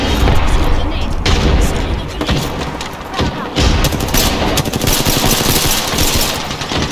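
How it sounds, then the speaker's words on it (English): A grenade blast in Apex Legends amid heavy battle noise, with a boom and thud caught in a steady wash of gunfire and rapid shots, loud throughout, with voices mixed in. "Tossing a grenade."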